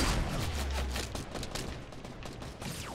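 Rapid video-game gunfire crackles in dense, overlapping bursts of shots and automatic fire, loud and nearly continuous throughout with no pause.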